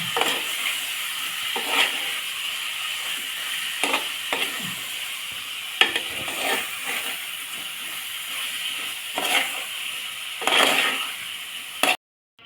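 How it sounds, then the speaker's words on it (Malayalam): Lime pickle with added salt being stirred in a pan, a continuous soft sizzle and hiss punctuated by irregular scraping strokes of a spoon, close and alone without talking. "അപ്പം ഒന്ന് നന്നായിട്ട് ഇളക്കി കൊടുക്കുക"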